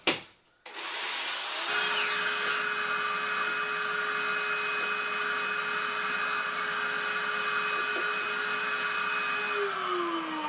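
A power drill bores a hole through a plywood floor laid over styrofoam. After a brief start it settles into a loud, sustained, even whine close by that holds steady for about nine seconds. There is no speech.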